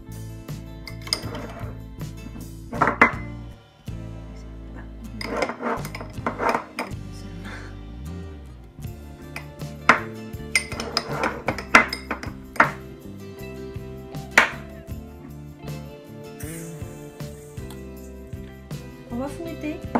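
Butter and sugar whisked together in a bowl for cupcakes, with quick rhythmic clinks and scrapes of the whisk against the bowl continuing under a speaking voice.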